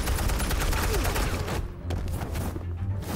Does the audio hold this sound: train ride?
no